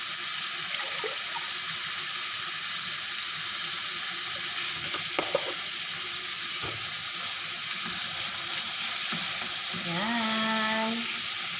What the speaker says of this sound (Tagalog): Ito, sasangagin ko na lang.